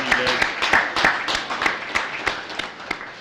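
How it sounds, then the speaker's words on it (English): An audience at a high school honors ceremony applauds juniors receiving high honors, a short burst of close, fairly loud clapping with distinct individual claps that gradually thins out. "Let's give an overall round of applause for our current juniors receiving high honors."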